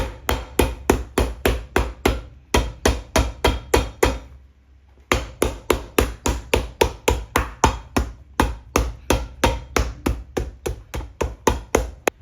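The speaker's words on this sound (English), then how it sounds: "And then we just hammer it together to get a nice tight bond and get all the air pockets out." Rapid, evenly spaced hammer blows strike repeatedly at close range on a boot sole being glued during a Red Wing 8002 resole, pausing briefly midway before the steady pounding resumes.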